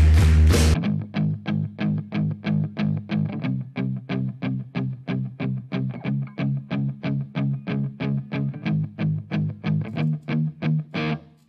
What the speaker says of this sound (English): It's palm muted, so basically you're putting this part of your hand on the strings there